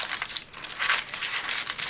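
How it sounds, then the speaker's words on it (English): Scissors snipping through a sheet of paper, cutting it to size while making a dessert in a home kitchen; a steady run of close, crisp crinkly cuts with no talking. "I'm going to cut the paper to the side. Get some scissors"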